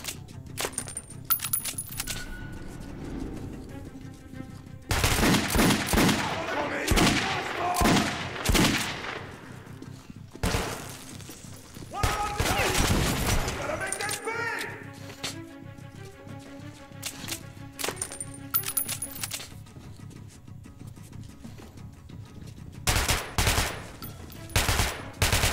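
Gunfire in the video game Metro: Last Light, rapid bursts of rifle shots with sharp cracks spread through the clip over a steady game background.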